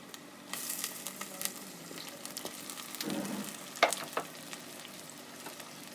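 Chicken pieces going into hot oil in a pot with onions for a Punjabi aloo gosht, giving a steady close sizzle and frying hiss with brief stirring clatters and a sharper clink near the end.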